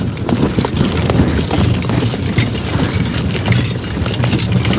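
Horse hooves clip-clop steadily on the ground while a horse pulls a dray during logging work, a continuous rhythmic clatter over outdoor noise and faint background voices.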